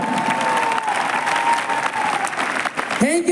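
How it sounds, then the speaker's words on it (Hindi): Audience applause at a Safe Shop company event in India, a steady wash of clapping from a large crowd, loud and continuous, with a voice speaking over it near the end. "जोरदार तालियां हो जाए भाई साहब"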